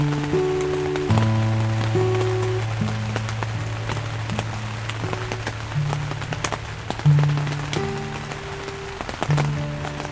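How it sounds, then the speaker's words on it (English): Steady patter of rain falling on a surface, under soft sustained musical tones that swell and fade. "I hope you can hear the rain."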